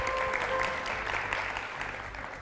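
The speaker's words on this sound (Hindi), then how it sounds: "बहुत सारी तालियां इन तीनों बहनों के लिए भी" Audience applause for three sisters on the Indian TV show Satrangi, a steady studio crowd clapping that fills the whole stretch and eases slightly toward the end.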